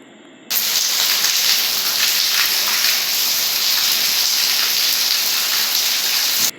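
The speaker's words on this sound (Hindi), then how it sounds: "यहाँ ये देखिए बारिश हो रही है तेज़" Heavy rain pours down in a loud, steady, unbroken hiss that starts abruptly and holds for several seconds, with no voices.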